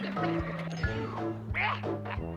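Quack from the video game Figment as a red duck is picked up, a short cartoonish duck call over layered game music with low thumping beats.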